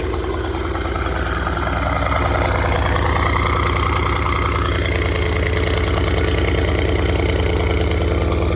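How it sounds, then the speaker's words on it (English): A Mercedes-AMG GT R idles steadily through its exhaust, a loud, close, deep rumbling burble with an even, slightly choppy pulse throughout and no voices. "We're gonna just do a little comparison of the exhaust."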